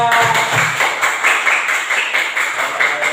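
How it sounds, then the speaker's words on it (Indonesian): Classroom students clapping for a group after its presentation on how a hydroelectric plant works, a loud, dense patter of hands that continues steadily throughout with some voices mixed in. "tepuk tangan kelompok 3"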